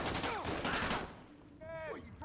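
Locals open fire in GTA V on a NoPixel roleplay server, a rapid burst of gunshots close by, a voice speaking near the end.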